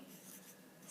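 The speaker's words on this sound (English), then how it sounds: "So I'm going to write" Pen writing on paper, a soft, faint scratching rub lasting about a second, close and quiet.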